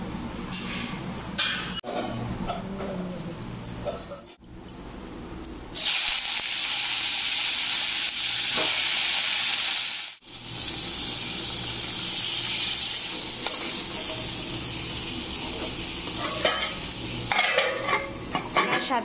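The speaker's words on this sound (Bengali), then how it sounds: "পটলটা ভাজবো, তাই কড়াই পরিমাণ মতন তেল দিয়ে দিলাম।" Oil heats in a wok before pointed gourd is fried, with utensils clinking and scraping, and a loud hissing sizzle that swells for several seconds midway, then settles into softer kitchen clatter.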